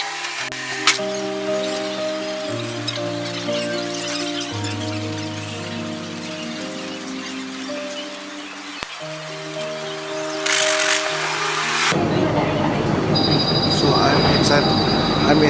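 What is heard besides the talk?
airport sky train moving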